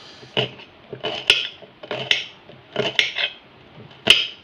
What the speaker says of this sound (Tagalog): Siyempre, magagayat na tayo ng sibuyas.